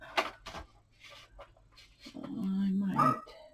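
A dog barks and whimpers indoors at something outside, a few sharp yips near the start and a longer strained outburst later, mixed in with a person speaking close by.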